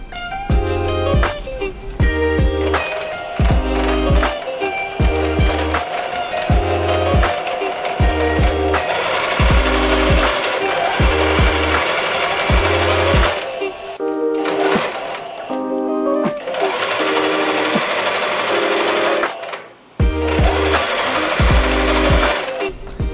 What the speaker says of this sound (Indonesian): Setelah itu kita lipat lagi setengah sentimeter, lalu kita jahit lurus kembali seperti itu